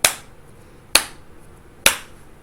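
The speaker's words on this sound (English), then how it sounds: "it's something like this, okay? Clap, clap, okay?" A teacher demonstrates hand clapping with three sharp, isolated claps about a second apart, close and clear against a quiet room.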